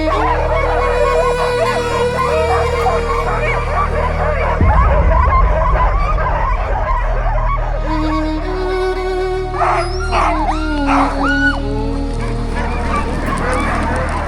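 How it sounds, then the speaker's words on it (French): Excited sled dogs in Lapland bark, yelp and whimper together in a dense, continuous chorus at close range, with harness rattle and bustle underneath and no talk. "Très vite, les chiens s'agitent, l'excitation monte."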